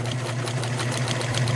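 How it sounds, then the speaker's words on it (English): Sewing machine stitching a seam across the bottom of a hemp fabric shopping bag, a steady, close whirring hum running without a break. "Just going to sew all the way across here"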